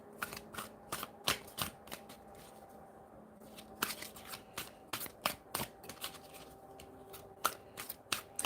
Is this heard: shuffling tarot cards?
yes